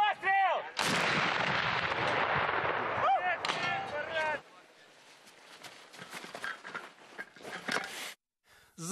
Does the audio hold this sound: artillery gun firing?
yes